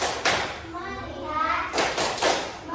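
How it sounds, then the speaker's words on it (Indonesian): A classroom concentration clap led by a teacher: a few sharp rhythmic hand claps from a group, mixed with a teacher's voice and children speaking. "Konsentrasi, tepuk konsentrasi."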